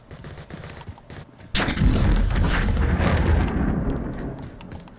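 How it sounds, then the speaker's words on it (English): In Warzone's Verdansk map, an airstrike lands with a sudden loud boom that rolls into a heavy, sustained rumble of explosions overhead, after a quieter stretch of background game noise. "Is that like airstrikes overhead?"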